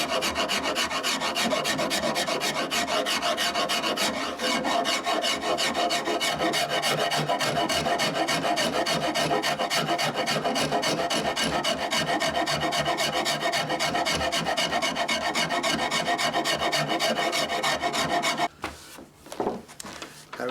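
Rasp filing the belly of a wooden longbow stave clamped in a vise, fast continuous rhythmic scraping strokes for most of the clip, close and clear, stopping near the end with a few softer handling sounds.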